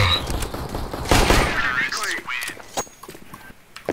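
Gunfire crackles in a shooter video game, a burst of rapid shots up close mixed with game effects and a voice talking over it.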